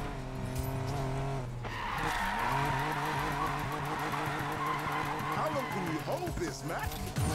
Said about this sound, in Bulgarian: Виж този дрифт.